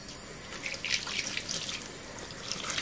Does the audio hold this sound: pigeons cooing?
no